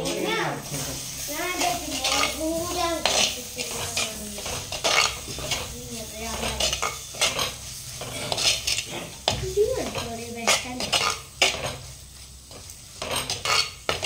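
A spoon scrapes and stirs chicken masala powder with garlic paste in a pot, a steady clatter of metal on metal with light sizzling, while someone talks over it throughout.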